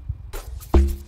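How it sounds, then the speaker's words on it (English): Amapiano log drum one-shot with distortion, made in FL Studio Mobile: a single loud, punchy low hit with a sustained booming pitched tail. A few faint softer taps come before it. "So now this is a log drum that I added."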